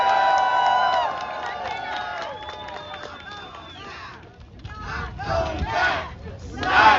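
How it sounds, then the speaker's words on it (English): A protest crowd outside the Supreme Court cheers and shouts together, with scattered applause and an amplified voice fading early, then rising waves of yelling. "one more round of applause."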